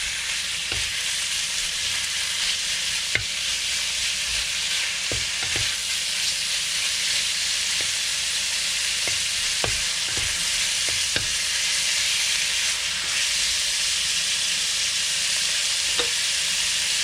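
Stir fry sizzling and being stirred in an electric wok, a steady loud hiss with scattered clicks and scrapes of a utensil throughout, no voices.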